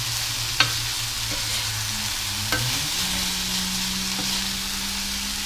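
Chicken pieces frying in a pan, a constant even sizzle with a couple of sharp utensil taps and low scraping underneath, heard up close without talk.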